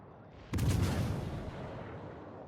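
Secondary guns of the warship Shannon firing in World of Warships: Legends, a sudden burst of booming naval gunfire that fades into a sustained rumble, moderately loud and without talk.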